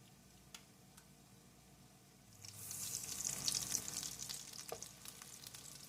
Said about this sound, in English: So you want to just fry these on medium to low heat until they're golden brown.